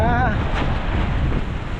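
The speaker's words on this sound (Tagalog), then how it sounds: "lumakas na naman yung hangin" Strong wind buffets the microphone at a resort in a low, rumbling roar, with a brief warbling tone at the start and a voice over it.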